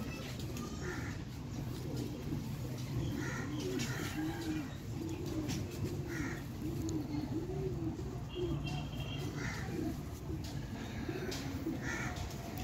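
Pigeons cooing in a coop of flying pigeons, soft repeated throaty coos rolling one after another over a steady background hum, with distant faint chirps and no clear speech.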